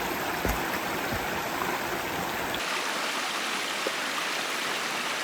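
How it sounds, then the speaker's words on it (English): Rushing water from a waterfall and rocky river stream on a hiking trail, a continuous loud broadband roar that stays steady throughout with no voices. "The waterfalls and the rocks in the river on this trail are really incredible"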